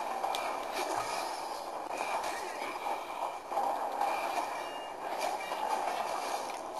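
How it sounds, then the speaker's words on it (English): A moving train in the RedSteel 2 video game rumbles steadily at mid volume, with broadband rolling noise and faint clatter throughout. "Good thing the combat's not much affected by the train moving."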